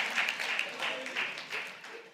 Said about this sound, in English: Let's clap for Big Zulu.